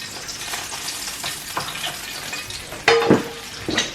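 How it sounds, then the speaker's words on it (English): Japanese hamburger steak (hambagu) frying in a pan on a stovetop, a steady soft sizzle with a few sharper crackles and pops, no talking. "Oh, that's still frying."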